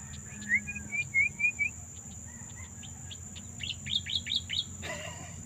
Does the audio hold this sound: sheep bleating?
no